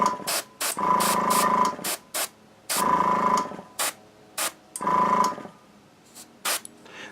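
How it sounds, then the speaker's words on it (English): An airbrush spraying paint onto a miniature gun model, a steady hissing spray in three longer bursts with several short squirts between them, close and alone. "This is actually the top, so I'm going to spray it lighter than the bottom."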